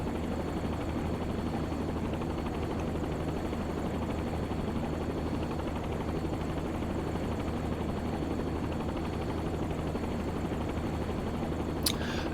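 A Jet Ranger helicopter climbing in a flight simulator game, a steady, continuous rotor and turbine drone with rapid blade chop that holds at an even level throughout, with no talk.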